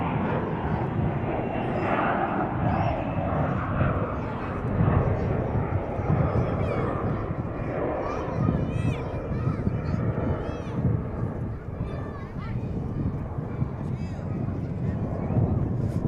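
An American Airlines Airbus A321 jet at Charlotte Douglas International Airport gives a loud, continuous engine roar with whining tones, heard under people talking.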